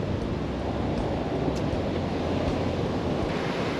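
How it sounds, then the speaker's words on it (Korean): Ocean waves wash steadily onto a beach at Busan in the evening, a dense continuous roar of surf mixed with wind noise on the microphone. "앞에는 파도 소리."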